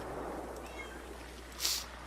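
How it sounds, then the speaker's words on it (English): A short, thin cat meow rises briefly above steady background noise, followed by a soft breathy burst, heard close and alone. "And they sound like a cat."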